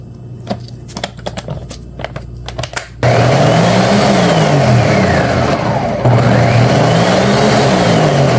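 An electric blender whirs loudly and steadily as it purees red grapes with water, its motor surging into a sustained roar after a few seconds of light clicks and taps, dipping briefly in pitch midway.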